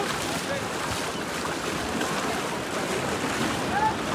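Sea waves at Cox's Bazar beach make a steady, dense roar of surf that holds evenly throughout with no breaks.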